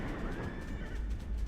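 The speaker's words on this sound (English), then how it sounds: "Come on, give me my horse." A horse neighs in the World of Warcraft video game, a short whinny with a wavering tone, heard close over a muffled background of game sounds.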